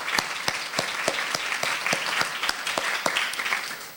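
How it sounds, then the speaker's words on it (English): Scattered clapping from a modest audience at a scholars' presentation event, many separate claps in a loose, uneven rhythm, steady and fairly close, with no talk over it. "How about one more round of applause for our great Davis scholars?"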